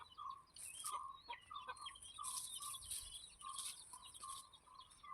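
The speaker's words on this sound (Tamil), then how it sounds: "கோழி" A chicken on a farm gives repeated soft clucks mixed with higher chirps, fairly close and steady in rhythm against a quiet background.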